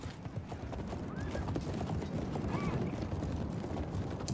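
Horses gallop in the medieval battle game Medieval II: Total War, a dense, faint drumming of many hooves with scattered neighs blending into the din of a cavalry charge.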